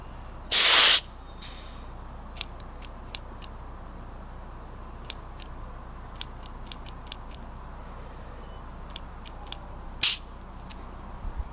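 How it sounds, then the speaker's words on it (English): Two short bursts of soapy water sprayed from a spray bottle onto custom fuel lines of a Mopar Charger, then a third later, with quiet ticks and clicks between them. "I'm going to use some sudsy like Dawn soap in a spray bottle"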